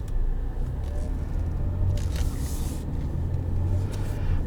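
Inside a 2017 Lincoln Continental Premier with 24,000 miles on it while driving: a steady, low road rumble and engine drone fill the cabin without pause, with no one talking.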